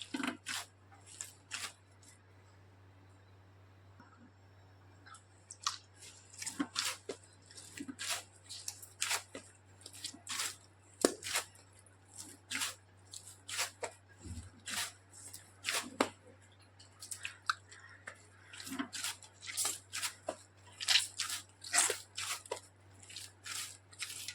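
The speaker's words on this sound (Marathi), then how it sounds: "इथे पाणी परत हाताला घ्यायचं असं आणि असं मळून घ्यायचं आहे" Soft, irregular squishing and slapping of modak dough being pressed and worked by hand with water, close up, with a steady low hum underneath.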